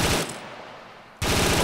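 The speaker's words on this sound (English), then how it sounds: "This gun sounds amazing!" Automatic gunfire in Arma 3 during a siege on towers: a loud, close rapid-fire burst, a second of quieter echoing tail, then another dense burst of shots cutting back in.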